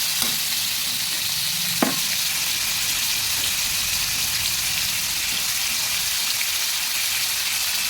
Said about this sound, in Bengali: নুন হলুদ দিয়ে আলুগুলোও ভেজে নেব।